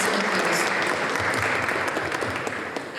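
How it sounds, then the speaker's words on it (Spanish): A panel talk audience breaks into sustained applause, a dense wash of many hands clapping steadily, fairly loud, with no voices over it. "Se merece un aplauso."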